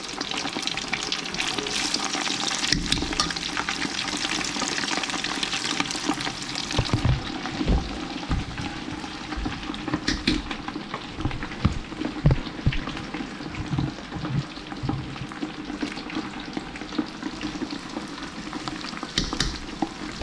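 Pork cracklins frying in very hot grease, a steady loud sizzle and crackle throughout with occasional stirring clunks and pops, no talking.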